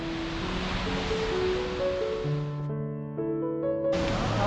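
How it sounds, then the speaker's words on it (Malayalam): A river rushes beneath a living root bridge in Meghalaya, a steady broadband wash of flowing water with sustained musical tones layered over it throughout. "അതിനടിയിലൂടെ ഒരു വളരെ അതിമനോഹരമായ ഒരു പുഴ ഒഴുകിക്കൊണ്ടിരിക്കുകയാണ്."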